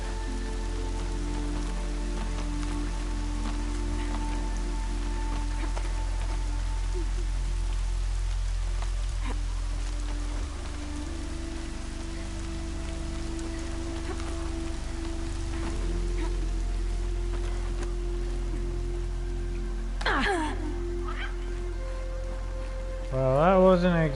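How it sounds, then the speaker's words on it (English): Steady rain falls in the game Horizon Zero Dawn, a continuous broadband hiss of drops on the ground that holds throughout, with a low rumble beneath and a few brief louder sounds near the end. "this is the first time I've seen the rain in this game"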